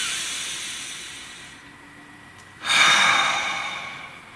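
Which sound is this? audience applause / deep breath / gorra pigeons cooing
deep breath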